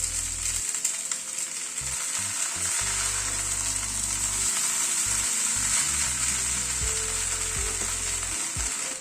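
Rice noodles and capsicum frying in a pan for sweet and spicy garlic rice noodles, a steady close sizzle with intermittent stirring and scraping, no voices.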